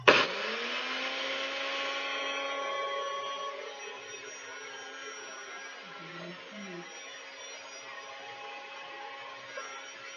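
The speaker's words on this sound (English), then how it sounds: "you just put this on the NutriBullet, let it mix up, and pardon the noise again" A NutriBullet blender mixing pesto starts with a sharp whir and keeps running steadily at a high, buzzing pitch, loud and close, easing slightly toward the end.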